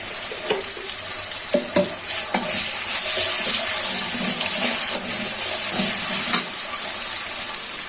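Onions frying in a pan as garlic paste and ginger paste go in, a bright continuous sizzle punctuated by several spoon taps and scrapes against the pan, close up with no voices.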